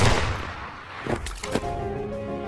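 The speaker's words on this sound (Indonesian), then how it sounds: "ia langsung menembak kepala sandera tersebut" Gunfire in a war film as a soldier shoots a hostage in the head: a loud blast opens, then scattered sharper reports follow over a dense rumbling backdrop with faint tonal music.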